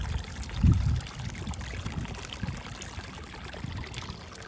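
Water trickling and flowing through a channel in a farm field, a soft continuous burble with a brief louder splash near the start, faint and steady with no voices.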